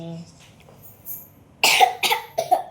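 A child sick with a fever coughs three times in quick succession, close and fairly loud, after a brief stretch of quiet voices.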